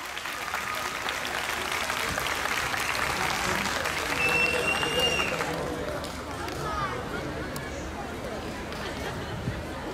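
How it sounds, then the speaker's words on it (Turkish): Applause at a festival concert, broad crowd clapping as a continuous wash of noise, swelling slightly midway then settling, with faint murmur underneath. "Bu güzel tabloya daha da kuvvetli alkışlar yaraşır,"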